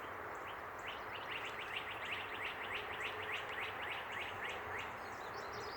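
Outdoor birdsong around a back porch: a busy, continuous stream of high chirps and tweets from several birds, moderately loud, with a faint buzzing undertone and constant background noise.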